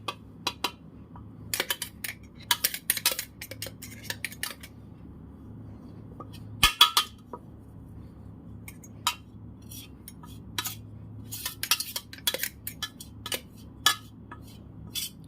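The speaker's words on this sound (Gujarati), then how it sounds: "હવે આપણે એને એક ડીશમાં કાઢી લઈશું." Besan ladoo mixture scraped out of a pan into a dish, giving scattered metallic clinks and scrapes of utensil against cookware, irregular and fairly close over a quiet low hum.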